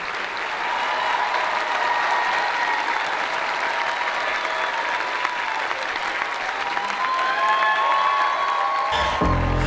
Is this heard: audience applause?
yes